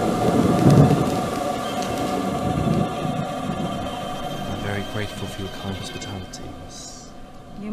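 A thunderstorm in a horror film, with heavy rain pouring steadily and a loud, rumbling roll of thunder near the start that fades into a continuous wash of rainfall.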